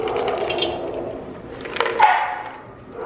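American Bully puppies yelp and bark for food at close range, a few overlapping high-pitched cries rising and falling across a short stretch.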